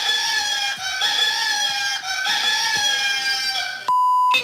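A rooster crows in a prolonged, strained wake-up call over a dense bed of other sound, followed by a sudden electronic beep tone at the end.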